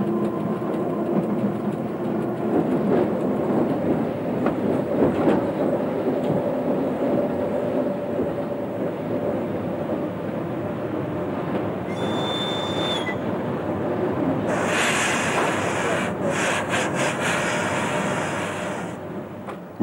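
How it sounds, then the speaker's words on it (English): Trans-Siberian railway train during a locomotive change, a loud continuous low rumble and roar of rolling stock with hissing and metallic bursts toward the end, no talking. "We're changing locomotives."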